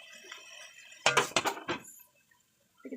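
A metal lid set over a cooking pan while frying fish with coconut: a quick cluster of three or four sharp clanks and rattles, close and fairly loud, with faint kitchen hiss before and after.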